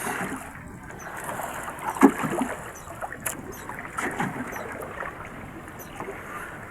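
Rough, choppy sea around a small fishing boat out alone at sea, with broadband wash of waves and wind noise, occasional slaps against the hull and one sharper splash near the start, steady and fairly loud without talk.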